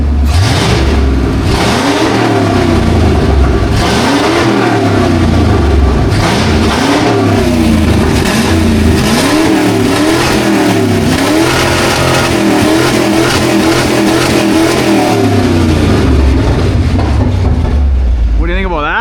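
A 1996 Ford F-350 crew cab engine, a truck being revived in the snow, revving up and down in repeated swells over a rough idle, loud and close, with people talking over it.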